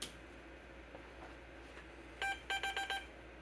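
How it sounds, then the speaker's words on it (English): A DEC VT101 terminal keyboard emits a short burst of electronic beeps, one longer tone followed by a quick run of several clipped beeps, clear against a quiet room hum. "we got some beeping from the keyboard"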